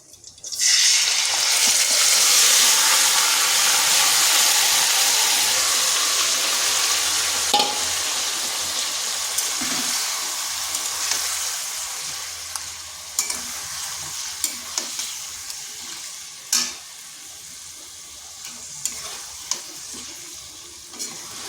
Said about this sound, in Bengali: এরপর দিয়ে দিচ্ছি চিকেনটা